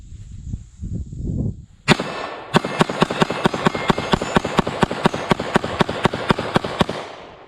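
A Keltec PR57 pistol fires Fiocchi ammunition in a fast string of about twenty evenly spaced, loud, sharp shots after an opening shot, close by outdoors, with handling noise before the firing starts.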